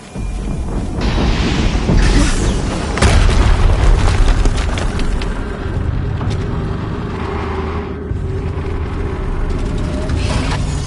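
Heavy booming explosions in the video game Horizon Zero Dawn, loud and sustained with rumbling low end and crackling debris over most of the span, and no talk.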